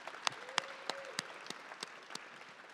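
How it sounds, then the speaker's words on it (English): Scattered applause from an audience at an agency press briefing, honoring Youth Council representatives, with a handful of distinct sharp claps standing out over a soft, thin background of clapping, fairly quiet and distant. "Can we give another round of applause for our Youth Council reps?"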